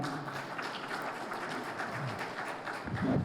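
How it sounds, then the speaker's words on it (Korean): Conference audience claps for a KAIST emeritus professor introduced as a keynote speaker at a robot industry conference in Incheon, a steady, moderate patter of many hands without voices. "박수 부탁드리겠습니다."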